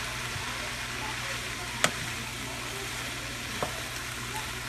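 Food simmering in a home cooking pan, a steady, even sizzle and bubble throughout with two brief sharp clicks over it.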